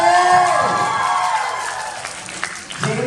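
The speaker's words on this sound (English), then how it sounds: "Can you give another big round of applause for James" A university audience gives a round of applause with cheers and whoops for a guest speaker, loud and close, a dense burst that fades over a few seconds.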